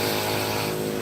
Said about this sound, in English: that's a loud little scooter